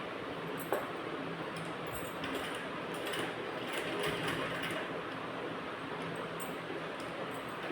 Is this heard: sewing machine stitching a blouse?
yes